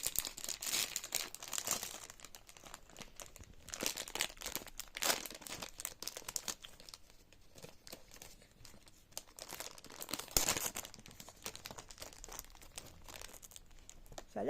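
Plastic packaging of Japanese cookies and candies being torn and opened, with steady close crinkling and crumpling and sharper rustling bursts throughout, no voices.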